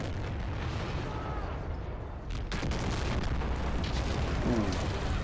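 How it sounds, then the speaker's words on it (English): Distant booming artillery explosions in a video game rumble continuously over a dense, noisy battle backdrop, with a sharper blast hitting midway through. "Now we're just going to see the explosions in the distance."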